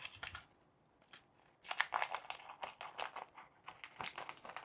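Scissors snip and crinkle through plastic packaging wrapped around a frozen steak, a close series of irregular crackling cuts and rustles, sparse at first and then busier.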